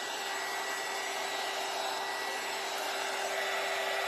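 A hair dryer drying Mod Podge and paper on a canvas blows a steady, moderately loud whoosh with a faint whine, running without pause.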